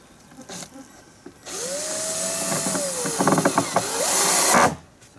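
A power tool drives black self-tapping screws to fasten boards, a close whirring burst that rises and falls in pitch, with ratcheting clicks as the screw seats, then stops.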